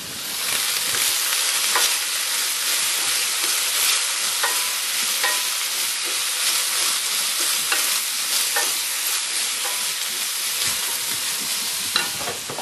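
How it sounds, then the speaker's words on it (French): Pepper and shrimp filling simmering in a pan for a pie, a continuous close hiss of sizzling with scattered small pops and crackles. "Voilà, laissons mijoter notre préparation."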